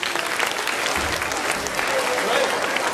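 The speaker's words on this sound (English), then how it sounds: "a round of applause" A school audience applauds after a National Youth Jazz Orchestra performance: a dense, loud wash of clapping from a crowd that carries evenly throughout, with faint voices mixed in.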